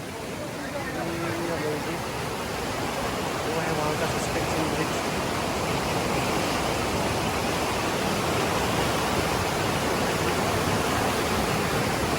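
A river stream rushes steadily at a camp in the Nainital hills of India, a broad, constant roar of flowing water with faint voices mixed in.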